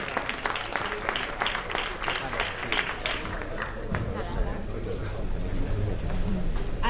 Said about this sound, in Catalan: Molt bé, un aplaudiment per ell.